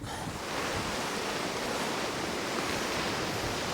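Strong windstorm gusts roar across the microphone outdoors while a big blue tarp is being folded, making a dense, continuous rushing noise that swells slightly after the first half second.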